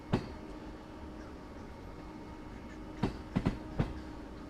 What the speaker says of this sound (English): You want to listen to the sounds of Train Sim World.